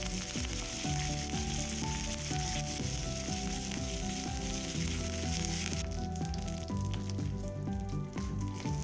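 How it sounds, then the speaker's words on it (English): Cumin seeds and curry leaves sizzle in hot oil over a low flame, a steady crackling hiss heard under continuous background music with no speech. "Next I add cumin seeds and curry leaves, and toast them on low flame for 5 seconds."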